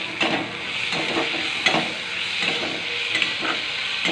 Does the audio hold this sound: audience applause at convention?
no